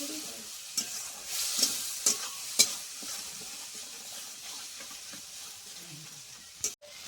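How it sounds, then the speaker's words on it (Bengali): Masala and paneer curry with a little water sautéed and stirred in a pan for a vegetarian paneer dish, giving a steady close sizzle with several sharp spoon scrapes and taps, alone with no talk. "দিয়ে ভালো করে একটু কষিয়ে নেব"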